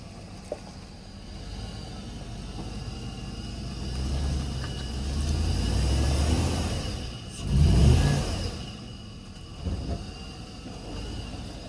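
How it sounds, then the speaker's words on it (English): A Toyota Tacoma truck engine revs on a washed-out road while its rear tires spin, the drone rising and falling with a louder surge near the middle, heard alone with no talk. "tires are spinning, but the front wheels aren't."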